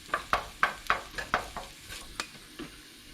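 Garlic roasting in a hot pan, heard as a series of about ten crisp sizzling scrapes from stirring at a fairly steady rhythm, close up and gradually weakening, with no talk.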